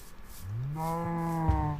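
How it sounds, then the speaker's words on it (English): A cow in the Minecraft video game gives a single drawn-out moo that rises and then holds steady, close and clear against quiet game ambience. "Says the cow."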